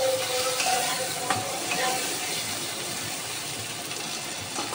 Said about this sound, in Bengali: এখন আমি গ্রেভিটা ভালো হওয়ার জন্য একটু টমেটো কুচি দিয়ে